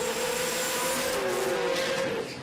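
Race car with a 20B rotary engine screaming along the track at a street performance jamboree, a sustained high-pitched wail with a shifting tone, fairly distant, with a faint squeal of tyres and no talking.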